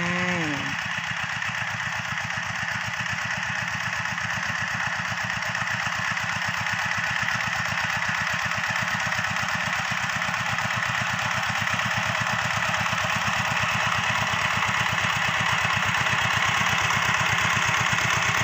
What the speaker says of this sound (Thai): คุณตากำลังไถนานะคะ โดยการใช้รถไถนาเดินตามนะคะ